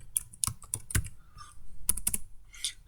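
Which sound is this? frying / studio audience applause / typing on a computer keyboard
typing on a computer keyboard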